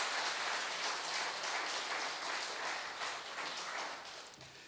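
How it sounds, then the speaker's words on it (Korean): Church congregation at a Sunday afternoon worship service claps in encouragement for a departing mission team, a steady, fairly distant wash of applause that tapers off near the end. "파송받을 우리 선교팀을 위해서 생필 격려의 박수 한번 보내시기 바랍니다"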